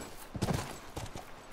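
A horse's hooves clip-clop in The Last of Us, a run of irregular, fairly quiet thuds from a ridden horse with faint game ambience and no talking.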